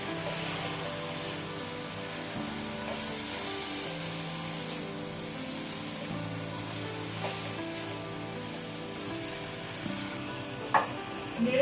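Spinach stirred into a pan with fish: a constant, close frying sizzle with soft scraping over almost twelve seconds, then a few louder spatula clanks near the end.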